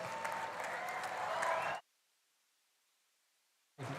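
Audience applause at a university fest, welcoming filmmaker Madhur Bhandarkar: a dense burst of clapping for under two seconds that cuts off abruptly into silence, with a brief return at the very end.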